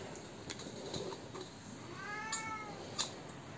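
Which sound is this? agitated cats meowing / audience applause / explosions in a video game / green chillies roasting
agitated cats meowing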